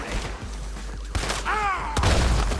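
Gunfire in Red Dead Redemption 2, loud cracking shots and thuds over a heavy low rumble, with a shout sweeping in between the reports.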